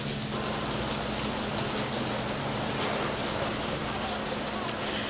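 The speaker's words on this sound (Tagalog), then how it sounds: "malakas na yung ulan, malakas na yung hangin" Heavy typhoon rain and strong wind during a storm approaching northern Cagayan in the Philippines, a dense steady roar of rainfall and gusting wind filling the whole stretch, with a low steady hum underneath.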